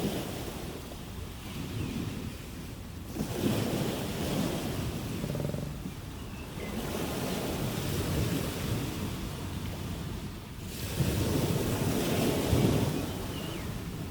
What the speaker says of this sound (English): where winds of 180 kilometers per hour whip giant waves